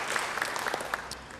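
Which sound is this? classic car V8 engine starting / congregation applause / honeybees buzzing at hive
congregation applause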